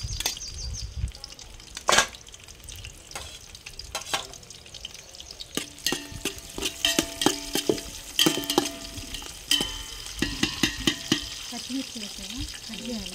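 Onions and green chillies sizzle and crackle in hot oil in a pan over a wood-fired stove, with sharp clatters of a spoon stirring and knocking against the pan throughout.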